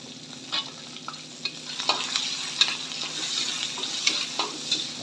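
Chili pieces sautéing with garlic in hot oil for a Maharashtrian vegetable dish, a steady close sizzle broken by repeated light scraping taps of a stirring spoon, with no talking.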